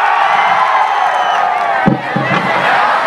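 A stage show audience claps and cheers in a dense, loud, continuous roar of voices and whoops, close and sustained throughout.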